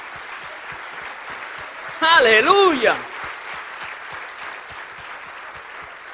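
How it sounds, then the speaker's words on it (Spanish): A church congregation applauds in steady, dense clapping throughout, with a voice calling out loudly for about a second in the middle. "dale un aplauso al Señor"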